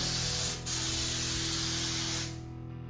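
A spray gun hisses continuously at close range spraying primer, a loud steady spray with a brief dip early on before it tapers off at the end.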